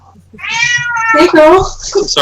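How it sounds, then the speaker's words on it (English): A house cat meows in a long, rising call close by, overlapped by a person speaking briefly to it. "My cat's meowing at me."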